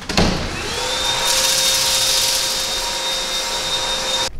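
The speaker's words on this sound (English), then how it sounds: "That's what you get for buying Jeff Bezos' knockoff version of the Dyson." A cheap Amazon knockoff Dyson-style vacuum cleaner whines up to speed with a thump at the start, then runs in a steady high-pitched motor drone at close range.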